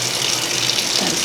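Tap water runs steadily into a container, a continuous gushing flow with no talk over it.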